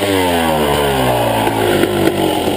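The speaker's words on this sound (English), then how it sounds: "No point revving the bollocks off." A motorbike engine revs loudly up close, its pitch climbing steadily in a rising whine with a few sharp pops.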